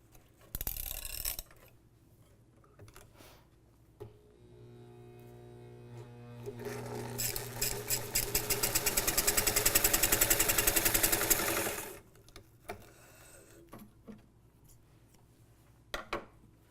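A Johnson ruffling machine runs on its own, building from a soft start into a loud, dense rapid mechanical clatter for several seconds, then stopping abruptly, with a few faint clicks afterward.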